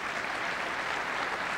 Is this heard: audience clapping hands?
yes